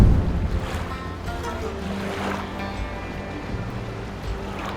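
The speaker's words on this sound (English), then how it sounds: "you have to do the gondola ride" Gondola ride on a canal in Venice: steady water lapping and soft wash against the boat with low rumbling ambience, close and continuous, no speech.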